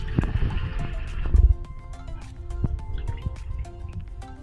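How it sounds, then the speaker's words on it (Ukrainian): Water is poured into a pot over a pork knuckle sitting in dark beer, giving a close splash and trickle early on that settles into soft drips and bubbling liquid sounds. "А я доливаю водичку, щоб вона повністю покривала нашу рульку."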